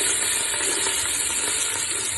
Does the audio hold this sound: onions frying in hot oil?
yes